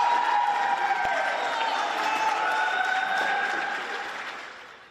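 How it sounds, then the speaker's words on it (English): A large outdoor crowd of supporters at a trial cheers and claps in a dense, sustained swell, with shouting voices and whistles mixed in, fading out toward the end. "You are hearing and seeing the crowds of supporters who have regularly shown up to support Giselle Pellicot throughout this trial."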